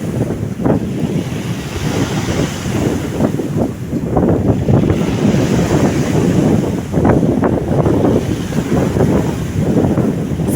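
Strong wind buffets the microphone over a stormy sea at Neptun, with waves surging and crashing in an uneven rhythm beneath a constant roar.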